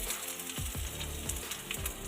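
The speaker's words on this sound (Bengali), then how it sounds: "পেঁয়াজগুলো হালকা ভেজে নেব" Chopped onions frying in mustard oil with dried chili and black cumin, a close steady sizzle overlaid by several soft low scraping strokes from stirring in quick succession.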